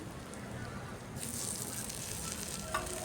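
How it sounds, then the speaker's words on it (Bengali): Onion with ginger and garlic sizzles in hot oil in a pan for a Bengali rice-and-fried-brinjal breakfast, a steady close frying hiss that brightens as the onion goes in, with a brief clink of stirring near the end. "পেঁয়াজটাকেও এখানে একটু ফ্রাই করে নেব।"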